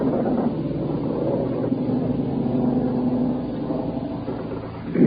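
A low, continuous engine drone from a plane passing overhead off the Normandy coast on D-Day in June 1944, heard from a ship at night, a muffled rumble holding steady for several seconds with no speech.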